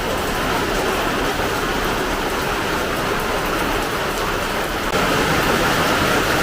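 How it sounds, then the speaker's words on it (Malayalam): Heavy rain pours in a loud, dense, unbroken hiss that fills the whole stretch without pause. "ചതിച്ചെന്ന് വിചാരിച്ച മഴ തിരിച്ചു വന്നിട്ട് ഇത് പെയ്തിട്ടുണ്ട്"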